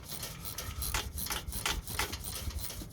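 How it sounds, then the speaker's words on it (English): Ratchet wrench clicking as it turns a motor mount bolt on a 1972 Pontiac 350 in a GM A-body car, giving quick, close, steady bursts of sharp ticks that repeat over a low background rumble. "So push up with your thumb while you're turning with the ratchet."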